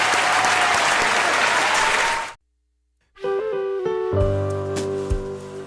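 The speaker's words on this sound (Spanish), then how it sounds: "¡Un aplauso!" A studio audience claps loudly and densely for about two seconds before cutting off abruptly to near silence, after which tonal music starts up and continues to the end.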